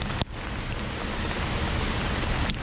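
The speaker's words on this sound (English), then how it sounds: "Hailstorm like no tomorrow" Heavy hail pours down from a storm, a dense, loud and continuous rattling wash with a brief sharp knock near the start, no talking heard.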